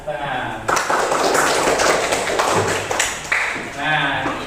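Classroom applause from Indonesian students bursts in after a brief spoken moment, a thick, loud patter of many hands that continues with small dips and surges, while voices talk over and between the clapping.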